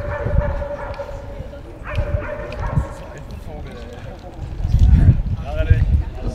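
A police dog barks and yips in short bursts while people talk over it, with a scuffle of movement.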